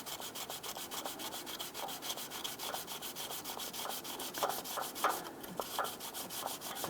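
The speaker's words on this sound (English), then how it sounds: "I'm going to use a block of wood that I know has a flat, smooth side with some light 400 grit sandpaper" A wood block wrapped in light 400-grit sandpaper rubs over a gasket surface on a 1994-2004 Ford Mustang 3.8L V6 EGR valve mount, making quiet, rhythmic back-and-forth scratchy strokes throughout.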